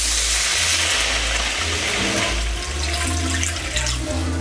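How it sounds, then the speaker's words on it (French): Water poured into a pot of Tunisian Jewish couscous meatballs, a steady rushing splash of moderate loudness that runs continuously for several seconds, with no voices over it. "On va mettre de l'eau."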